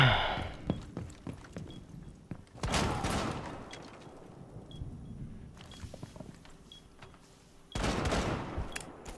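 Bursts of automatic gunfire ring out in a Rainbow Six Siege match, one rattling volley early and another near the end, each moderately loud over low background ambience.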